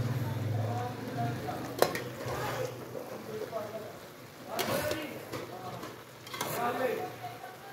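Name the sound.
stirring aloo pulao in a pot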